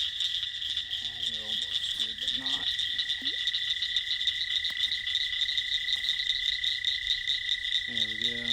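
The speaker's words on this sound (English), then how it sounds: "A lot of frogs out tonight." Many frogs croak in short bursts near water on a night fishing outing, with a constant shrill chorus of insects or crickets running under them the whole time.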